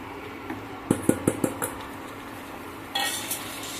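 A spoon stirs coconut powder into a sugar mixture in a pan for coconut barfi. A quick run of five metallic clinks against the pan is followed by softer scraping and a brief rougher stir.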